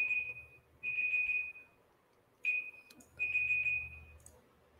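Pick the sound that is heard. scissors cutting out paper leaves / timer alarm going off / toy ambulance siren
timer alarm going off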